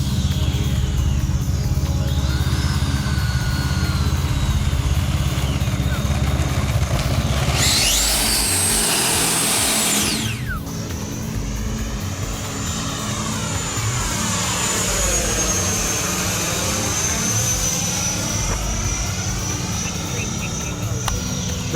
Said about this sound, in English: You can even use thrust reverse to power back and change directions.